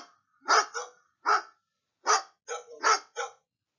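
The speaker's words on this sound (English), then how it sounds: "Yes, it's dogs barking." Dogs barking in a string of seven short, sharp barks with brief gaps, fairly close and clear, with no other sounds around them.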